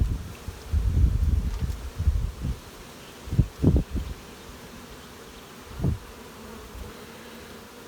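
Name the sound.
unsettled bees buzzing at mini nuc hives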